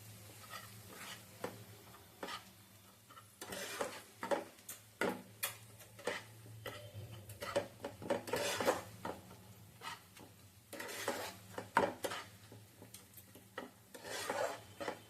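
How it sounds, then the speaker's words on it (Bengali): Spices being stirred in a cooking pan give repeated scraping, rasping strokes of a spoon against the metal in an uneven rhythm, close up over a faint sizzle, with no voices. "পরে এই মশলাগুলোকে ভালো করে আমি একটু নাড়াচাড়া করে নেব, যাতে ধরে না যায়"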